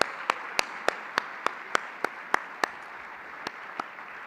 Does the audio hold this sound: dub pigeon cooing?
no